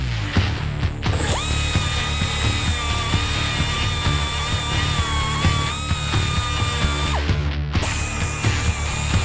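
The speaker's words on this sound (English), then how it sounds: "I'm just going to clean it out a little bit with the die grinder." A die grinder cleaning out metal on a 1959 Renault 4CV rat rod, a sustained high-pitched whine running for several seconds over a rumbling shop background, briefly cutting out and resuming.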